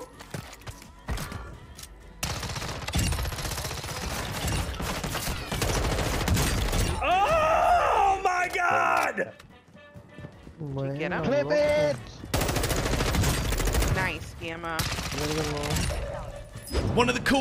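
Machine pistol fire in Warzone 2, with quick bursts and rapid shots mixed with other game effects and music, while players talk and shout excitedly throughout.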